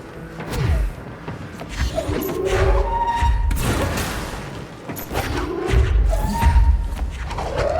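Heavy thuds and impacts from the player character falling in the video game Control, several muffled booms and knocks with swooshing debris spread over the span, close and fairly loud, with no voices.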